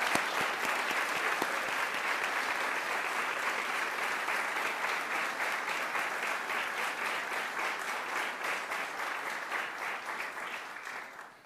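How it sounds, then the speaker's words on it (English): Sustained applause from an audience at a Pentagon Pride celebration honoring award winners, steady and full at first, then settling into a more rhythmic pattern before it fades out at the end. "Please join me in a round of applause for our distinguished award winners."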